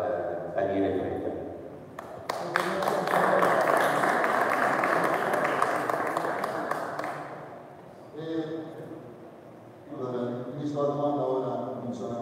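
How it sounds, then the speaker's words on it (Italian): Audience applause at a football club's official 2021/22 team jersey presentation, a sustained wash of clapping swelling for several seconds and then fading, with speech over a microphone before and after. "un grande grazie, un grande applauso a Daniele Fretta."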